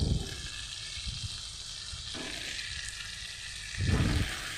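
Rohu fish paturi cooks in a covered pan with a constant, close sizzle and bubbling hiss. A couple of brief bursts of louder spitting and a dull knock break the steady crackle, and no one speaks.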